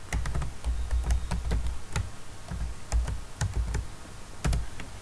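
Typing on a computer keyboard as a short Python command is entered: a run of crisp, close key clicks at an uneven pace, with a few heavier thumps on the space or enter keys and no speech.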